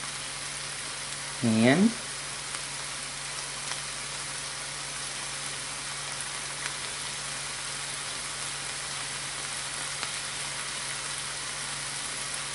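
Fresh minced garlic hits a hot frying pan with a brief loud sizzle burst, then settles into a steady, quieter frying hiss that carries on alone.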